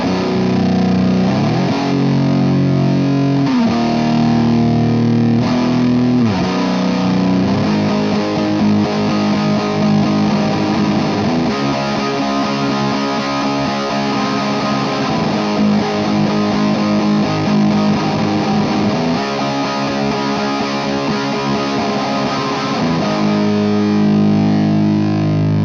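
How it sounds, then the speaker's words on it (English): A distorted electric guitar played through a Titan 250 amp plugin and an IR cabinet chugs and rings with heavy, saturated chords and riffs, loud and continuous throughout. "What you're hearing right now is just the Titan 250 going into our IR cab"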